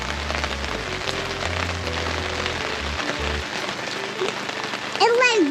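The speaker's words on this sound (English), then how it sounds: "It's raining so much." Heavy rain pours steadily onto the roof of a camping RV, a dense close patter with a low rumble underneath and a brief whistling tone near the end.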